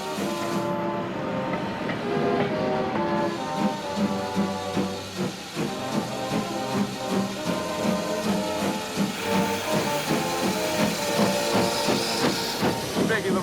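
A steam train chuffs and hisses as it pulls away, with rhythmic clanking wheels, steady and fairly loud, under a bed of music-like tones.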